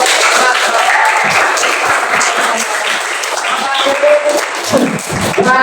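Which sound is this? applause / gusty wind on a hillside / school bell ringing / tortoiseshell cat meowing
applause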